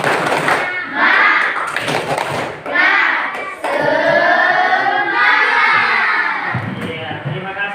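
Indonesian school class clapping hands together in unison on the teacher's cue, a loud rhythmic spirited clap mixed with children's shouting voices in a classroom.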